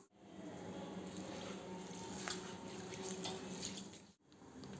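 Tap water running steadily into a vessel while Kohinoor basmati rice is rinsed, a continuous close splashing flow with a brief break near the end.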